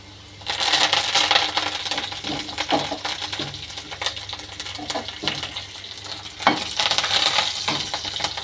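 Garlic and curry leaves hit hot oil for kara kuzhambu with bitter gourd, a close, loud sizzle that bursts up, with spatters and spoon clinks that swell again after a brief dip.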